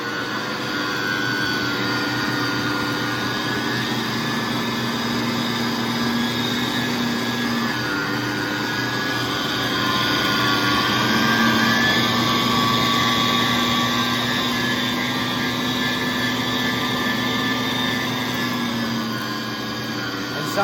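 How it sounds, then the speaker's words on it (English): A Cabela's meat grinder grinds meat with a steady, loud motor drone and a whining hum that holds nearly unchanged for the whole stretch, with faint tonal shifts as the load varies. "turn it all the way to grind, and then start pushing the meat in"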